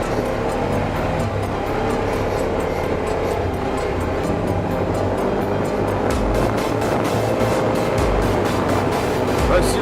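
A Polaris RZR 570cc side-by-side runs through muddy forest trails with big rocks, its engine a loud, continuous rough roar with splashing and rumbling throughout, and a voice speaking over it.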